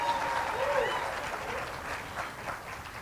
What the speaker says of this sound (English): Let's give them a hand of applause as they leave the stage